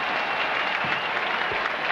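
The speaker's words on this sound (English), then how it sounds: "Listen to this crowd." A large football stadium crowd at a 1978 Clemson vs South Carolina game applauds loudly and steadily, a dense unbroken wash of clapping and cheering from many spectators throughout.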